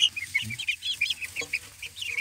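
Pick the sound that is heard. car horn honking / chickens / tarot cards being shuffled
chickens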